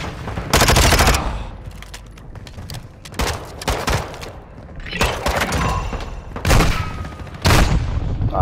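Rapid bursts of loud automatic gunfire and heavy booms in the DMZ video game, coming in several intense volleys with brief lulls between them and no clear talk.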